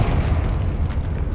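A Confringo fire blast spell cast in Hogwarts Legacy: a dense, rumbling burst with heavy low-end boom, sustained loudly for over a second.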